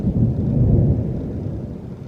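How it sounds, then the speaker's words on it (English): Thunder rolling in the woods, a deep low rumble that swells early and slowly fades, heard alone at moderate loudness. "There was thunder."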